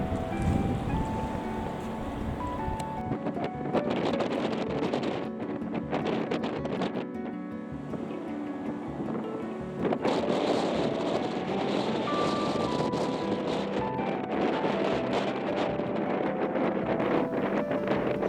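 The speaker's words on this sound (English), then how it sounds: "A very breezy, nay windy day at Abirlaur" Strong Storm Dennis wind gusting beside the swollen river at Linn Falls, Aberlour, Scotland, buffeting hard and unevenly over rushing water, with a sharp rise in force partway through.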